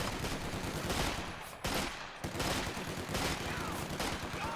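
Dense, continuous gunfire and explosive bursts from a Company of Heroes 2 multiplayer battle, loud and close throughout with brief dips, commentators' voices faint beneath.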